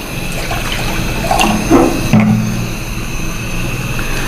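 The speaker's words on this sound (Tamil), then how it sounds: "தண்ணி ஊற்றுறோம்." Water pours steadily into a metal pressure cooker, a continuous splashing fill with a faint hollow ring, close by, no talking.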